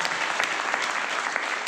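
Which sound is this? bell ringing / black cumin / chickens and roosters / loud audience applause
loud audience applause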